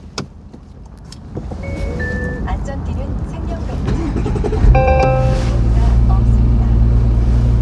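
A Porsche Cayenne Coupe with a turn-key ignition and 38,000 km on it is started up and settles into a steady, close idle rumble. Someone talks over it now and then.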